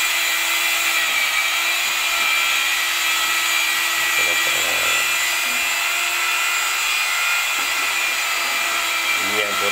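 A handheld power cutter grinds through a mosaic tile during tile installation, giving a long, loud, unbroken whine and hiss close by, with small shifts in pitch as the blade works through the piece.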